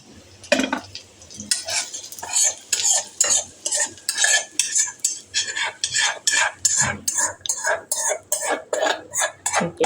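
A spoon stirs tempering into red chola paniyaram batter in a bowl, with rhythmic, repeated scraping and wet stirring strokes that are close and fairly loud.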